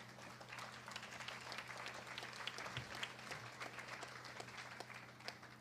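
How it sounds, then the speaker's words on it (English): Steady audience applause fills a hall at a city celebration of affordable housing investment, dense and even for several seconds, heard from a distance against a low hum. "you all should give yourselves a round of applause"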